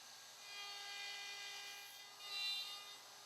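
A handheld router cuts through dovetail tails in wood clamped in a Leigh Super Jig, making a steady, loud, high motor whine with a rising cutting pitch near the end.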